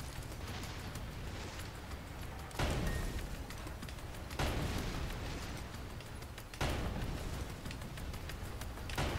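Sustained automatic gunfire from a machine gun in the video game Sand Land, a dense, noisy rattle that runs continuously, with three sharper, louder bursts breaking in at regular intervals.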